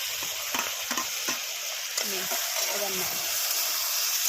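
Shrimp dropped into a hot pan fry with a loud, continuous sizzle and a few scraping stirs, and a voice speaks over the cooking.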